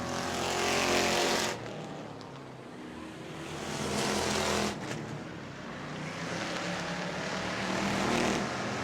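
Sprint cars racing around the Auburndale track in a Southern Sprint Car Shootout event, loud engines roaring past in repeated waves as cars go by, with continuous track noise between passes.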